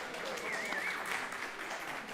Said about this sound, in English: You'll notice we only applaud for brand new.